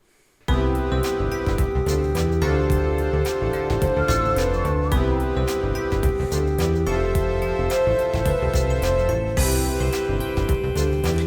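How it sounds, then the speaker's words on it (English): Item shop background music from the video game Legend of Dragoon: a steady, sustained melodic track with layered tones and a constant pulse, loud and uninterrupted after a brief silent start, with no talking. "Legend of Dragoon item shop"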